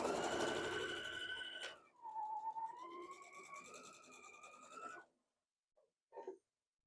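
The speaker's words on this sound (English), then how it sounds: "I'm going to hold that one nice and tight and start sewing this across." An electric sewing machine stitches a flat quilting seam, humming steadily for several seconds with a shifting whine, then stops, followed by a couple of faint clicks.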